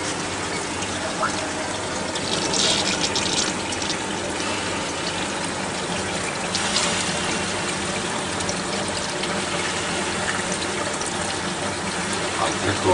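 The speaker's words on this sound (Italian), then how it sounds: "Accendo l'acqua." Water gushing steadily into the tank of a Fanuc Alfa 0iB EDM machine, a continuous loud rushing fill close by with faint pump noise underneath.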